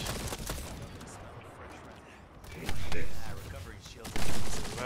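Enemy gunfire in a looter-shooter video game rattles in dense, sustained bursts throughout, with louder volleys swelling near the end while a player talks over it.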